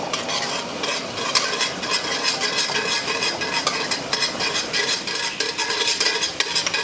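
Cumin seeds sizzle steadily in hot oil while a spoon scrapes and stirs them around the pan, a close, continuous crackle with no talking.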